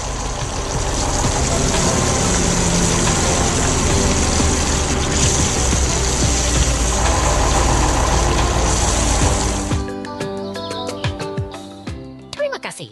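A red tractor works in a garden, its engine running as a loud, steady mechanical drone for about ten seconds before the noise abruptly drops away into lighter, scattered sounds.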